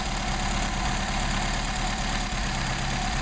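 A car engine fitted with a Solex carburetor idles at about 1,000 to 1,200 rpm, making a steady, even mechanical hum heard close by with no speech.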